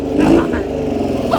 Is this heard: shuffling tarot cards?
no